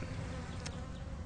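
A swarm of Africanized killer bees drones in a steady, dense buzz that stays close and constant throughout, with no voices over it.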